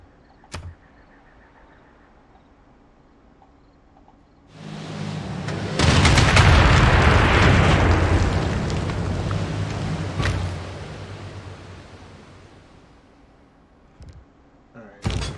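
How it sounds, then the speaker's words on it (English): Rumbling explosions and booming blasts as a battleship sinks in the strategy game Civilization VI, a loud sustained roar that swells after a quiet start, peaks, then slowly fades, with a couple of sharp distant thumps at the edges. "You sink my battleship"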